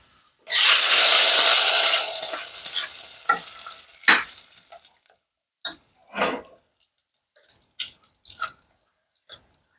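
Hot tempering of dried red chillies poured into broccoli dal, giving a loud burst of sizzling that fades over a few seconds, followed by scattered scraping stirs of a spoon in the pot.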